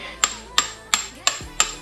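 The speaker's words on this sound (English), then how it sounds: "Just hammer that axle right out." An e-bike wheel axle driven out with a hammer: five sharp metallic strikes in an even, quick rhythm, loud and close with ringing overtones and no talk.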